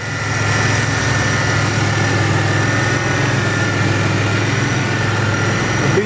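A V6 3800 series engine idles steadily and close by, a smooth even hum with a constant low rumble and no talking.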